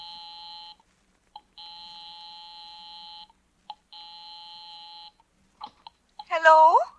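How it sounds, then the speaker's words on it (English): A house phone dials out in an old radio drama: a steady electronic ringing tone sounds in long repeated bursts, separated by short clicks, and ends in a louder warbling burst at the close. "I'll give 9B a ring first on the house phone."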